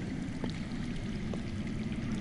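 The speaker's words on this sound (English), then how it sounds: "I hear water. From underground." Underground water in a Game of Thrones video game flows with a soft, continuous pouring and trickling rush, steady and moderately quiet, with no voices over it.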